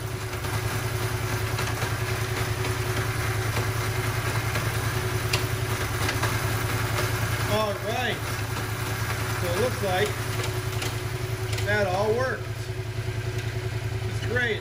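A Yamaha FZ-07 (MT-07) sits on a rear stand with its engine running at a steady, fairly loud hum; a voice speaks over it in the second half.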